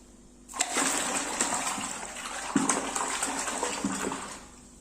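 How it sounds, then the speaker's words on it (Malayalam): Camphor and fabric softener stirred into water in a bucket, a steady churning swish and slosh of water running throughout, starting abruptly with a few louder splashy surges, close and alone with no talk. "ഇനി ഇത് നമുക്ക് നന്നായിട്ടൊന്ന് ഇളക്കി കൊടുക്കാം"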